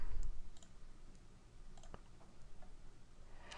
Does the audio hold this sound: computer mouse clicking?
yes